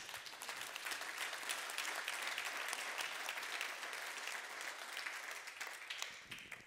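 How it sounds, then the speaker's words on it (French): Dense, sustained applause from an audience at a French municipal gathering as a senior staff member is honored. It holds steady for about six seconds and then eases slightly at the end. "Je crois qu'on peut applaudir Sylvie Gaziglia."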